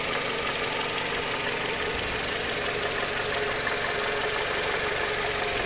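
A Bertone 2.2 car engine idles steadily with an even, dense mechanical rumble and a fine ticking texture, heard close up and without pause for several seconds, with no voices.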